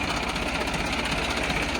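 A New Holland 3230 NX Plus Liftomatic tractor engine runs close by, a steady, loud, throbbing diesel idle with a faint rhythmic knock and no talk.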